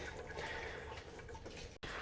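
Coolant drains steadily from the radiator of a 2004–2006 Toyota Sienna with the cap still on, a continuous close splashing rush of liquid with a brief break near the end.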